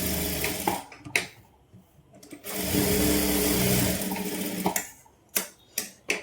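A sewing machine stitches a saree blouse in several bursts, with a sustained steady run in the middle and short sharp starts and stops around it, close and fairly loud.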